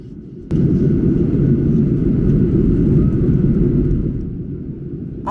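Steady, loud broadband roar inside the cabin of a Ryanair Boeing 737 in flight, starting near Gdansk and heading toward Hamburg, with engine and airflow noise that holds and then eases slightly near the end.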